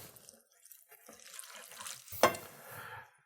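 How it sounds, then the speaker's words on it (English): Cooked pearl couscous with a little oil gets a quick stir in a pot, soft scraping and wet shuffling that is faint at first, with one sharper clatter of the spoon near the end. "Give it a quick stir."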